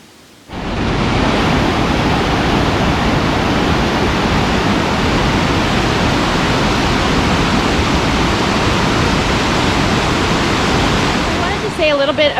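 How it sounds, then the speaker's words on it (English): Loud, steady rush of a rain-swollen creek in the Great Smoky Mountains, a broadband roar that starts abruptly and continues unbroken, close by. "the creek is so full, and it sounds beautiful"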